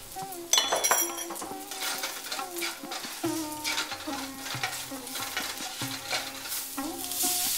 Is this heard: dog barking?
no